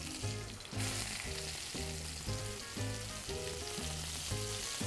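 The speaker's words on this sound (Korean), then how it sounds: "자, 지글지글 소리 들리죠?" Steak searing in a hot pan, a loud continuous sizzle and crackle of fat with a repeating rhythmic pattern of soft tones throughout, no talking.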